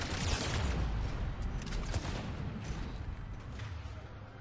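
Dense, continuous gunfire in the video game Mass Effect 3, loud and sustained with overlapping shots and booms throughout, no clear breaks.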